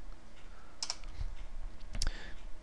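Computer keyboard typing comes through as a few sparse, sharp clicks in two small clusters over a low background hum, with no one speaking.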